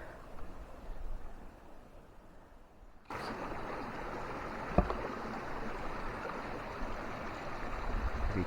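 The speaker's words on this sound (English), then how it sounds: "You can hear the water flowing underneath there." Creek water gurgles and rushes steadily nearby under ice, a constant hiss of flow that turns noticeably louder partway through.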